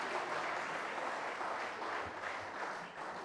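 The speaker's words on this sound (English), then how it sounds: "Another round of applause for this wonderful lady." A room applauds someone speaker at a company colloquium, with steady, moderately loud crowd clapping that holds evenly and tapers slightly at the end.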